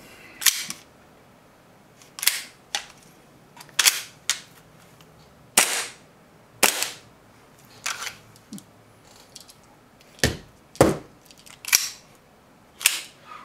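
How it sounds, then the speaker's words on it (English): A Nineball Hi-Capa airsoft pistol fires BBs at a bag in sharp, close, loud shots, spaced irregularly about one or two seconds apart with brief quiet gaps between them. "I need to empty this. Let me shoot at the bag."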